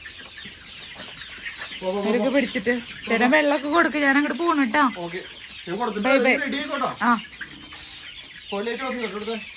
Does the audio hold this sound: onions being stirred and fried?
no